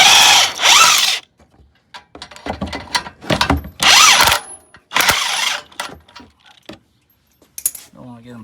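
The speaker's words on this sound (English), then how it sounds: "So these two take a 17mm socket right here." A hand ratchet with a 17mm socket snugs bumper mounting bolts while an ARB bumper is fitted to a Toyota Sequoia. Loud, close bursts of rapid clicking come in several separate runs, with short quiet gaps between them.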